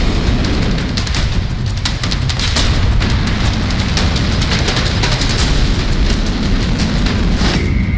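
A continuous, loud, roaring blast rumbles without letup, dense with crackling bursts throughout, from a North Korean ballistic missile launch.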